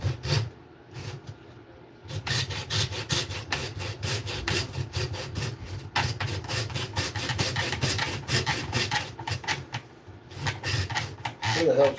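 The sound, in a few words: hacksaw with thick blade cutting a curve in wood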